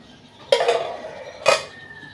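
Plates clatter together at close range: two sharp ceramic clinks about a second apart, each followed by a short ringing scrape, in an otherwise quiet room.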